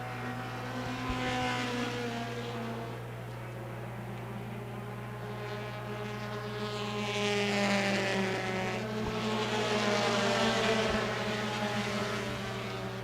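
Compact touring stock cars race at Lucas Oil Raceway during a 2015 Vore's Compact Touring Series championship event, their engines a loud, steady droning roar that swells and eases as the pack circles the track.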